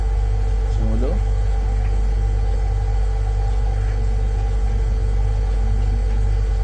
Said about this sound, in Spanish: Empieza a escuchar el sonido de la nevera.